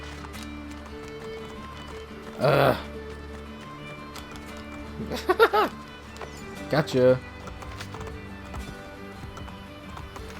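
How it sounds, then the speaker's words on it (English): Horse hooves clip-clop in short bursts in the Assassin's Creed Brotherhood video game, three quick clusters of steps over steady game ambience, with someone talking briefly. "whoa, whoa, come here, horse. Come here, horse."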